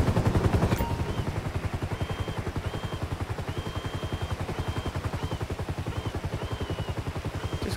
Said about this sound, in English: Dude, this thing's got Gatling guns on it